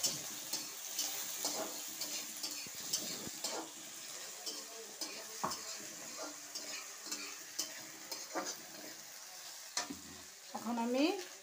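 Chopped garlic and green chilies frying with onion in a pan for a fish curry, a quiet steady sizzle punctuated by light spoon ticks and scrapes, with a louder stir and clatter near the end.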